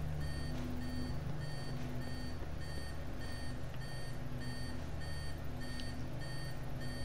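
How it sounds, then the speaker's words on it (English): A sensor in Call of Duty Black Ops 4 beeps in a steady repeating pattern, sharp evenly spaced electronic tones over a low background rumble, with no talking. "They can probably just hear the sensor."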